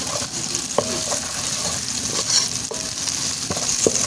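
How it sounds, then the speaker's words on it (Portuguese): Onion fries with curry powder and a bay leaf while a utensil stirs it, giving a close, crackling sizzle punctuated by several sharp taps and scrapes against the pot. "volto a misturar bem"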